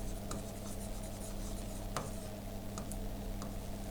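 A teacher writes steadily with a pen or marker during an English exam lesson, producing faint scratchy strokes and small taps over a constant low hum, with no talking.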